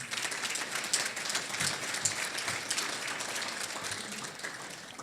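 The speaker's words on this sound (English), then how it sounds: "Give that a nice round of applause." A crowd applauds steadily at a Chamber of Commerce awards gala in Elmhurst, dense clapping from many hands heard at a moderate distance throughout.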